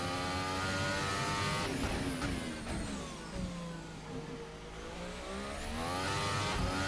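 Engine of a Formula 1 car in a racing video game at the Baku street circuit roars continuously under hard throttle, its pitch climbing and dropping through gear changes, loud and steady throughout with no talking.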